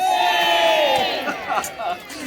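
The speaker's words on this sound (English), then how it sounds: "Let's have a cheer all those who don't care." Spectators at the Loxwood Joust land battle let out a loud outdoor cheer with whoops and shouted cries, the roar peaking early then breaking into scattered yells as it fades.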